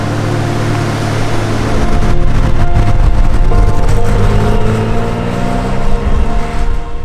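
A 1972 Porsche 911S Targa with its 2.4 engine drones loudly while driven at speed, a dense steady roar whose pitch climbs and shifts as it accelerates, with no voices over it.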